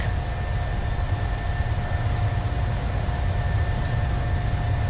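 A PMDG 737-700 airliner in Microsoft Flight Simulator 2020 on its takeoff roll, a steady loud engine roar with low rumble and a constant high whine.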